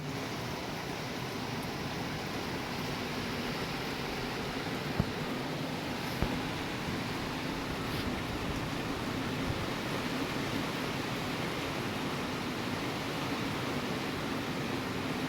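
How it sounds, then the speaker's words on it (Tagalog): A dense, steady roar of heavy typhoon rain mixed with gusting wind fills the night air continuously, with occasional faint knocks and no voices. "Kanina pa malakas yung ulan at ngayon ramdam ko na yung hangin."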